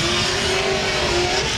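A blacked-out Nissan S15 drift car skids through a qualifying run, its tires squealing in a sustained, loud screech over a continuous engine roar with no pauses for the full stretch.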